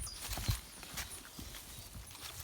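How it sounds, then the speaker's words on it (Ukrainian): A horse nearby, with soft hoof clops and shuffling movements over quiet outdoor background noise. "Файний коник."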